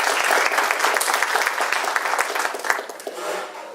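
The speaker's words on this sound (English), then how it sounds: "Round of applause." A forum audience gives a brisk round of applause, dense overlapping claps that stay strong and then thin out toward the end.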